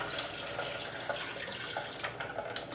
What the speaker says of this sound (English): So I'm going to pour about 2 quarts in here